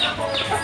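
Chickens given as a livelihood to a farm beneficiary in the Philippines cluck in a brief, loud, close burst of scratchy squawking noise.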